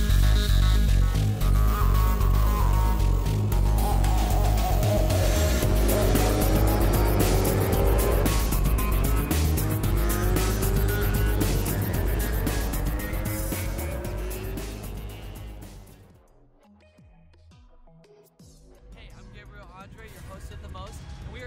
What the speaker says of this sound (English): we're gonna go check out some MotoGP racing